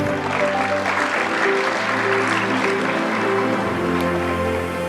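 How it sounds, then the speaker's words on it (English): A conference audience at a security dialogue claps steadily for several seconds, a full, even wash of applause with faint background murmur. "So big round of applause, please"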